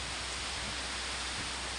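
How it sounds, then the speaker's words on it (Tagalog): Dense, steady roaring hiss of heavy rain with rushing wind during a tornado, loud and unbroken throughout, no voices. "Kaya ganito kalakas ang hangin."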